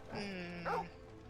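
Dog in the Final Fantasy video game, a short yip and whimpering bark heard close amid overlapping in-game voices and a tonal background.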